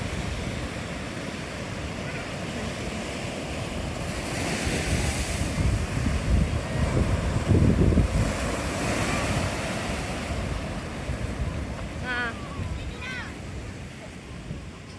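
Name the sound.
sea waves at a beach resort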